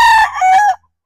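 A pure white Kelso broodcock rooster crows once, close and loud, a single strained cock-a-doodle-doo lasting under a second and cutting off abruptly.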